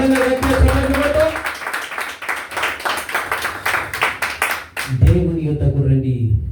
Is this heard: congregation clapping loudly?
yes